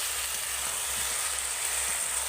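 Okra sizzles in a pan as it is stirred, giving a continuous hiss of frying with soft, low stirring bumps underneath and no talking.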